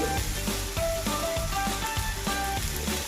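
Onions sizzling and frying in a pan for an egg curry dinner, a steady close crackle with rhythmic stirring scrapes throughout.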